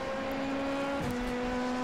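A race car on practice laps at Sebring passing a Ferrari on the inside, heard as a steady engine drone whose pitch shifts down midway as it goes by, close and continuous with no talking.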